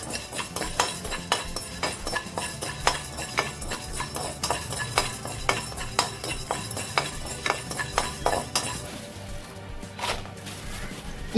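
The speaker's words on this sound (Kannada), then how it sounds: "ಈಗ ಕರಿಮೆಣಸು ಫ್ರೈ ಮಾಡ್ತೇನೆ" Fifty grams of black peppercorns dry-roasting in a pan rattle and scrape in a steady rhythm of sharp metallic clicks as they are stirred, close and continuous.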